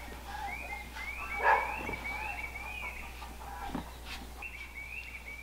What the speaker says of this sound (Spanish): Qué bonitos pajaritos